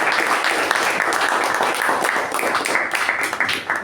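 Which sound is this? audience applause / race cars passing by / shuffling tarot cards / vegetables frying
audience applause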